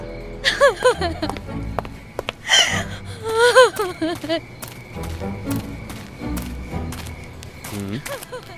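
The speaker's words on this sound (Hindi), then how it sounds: "ये रोने की आवाज तो नदी के उस पार से आ रही है" A person weeps and whimpers at midnight beside a river, with gasping sobs and moaning cries rising and falling in close bursts over faint background noise, alongside a short spoken line.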